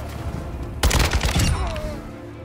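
In Warzone 2 DMZ, enemy gunfire erupts as a sharp, loud burst of rapid shots lasting about half a second, then trails off into background rumble.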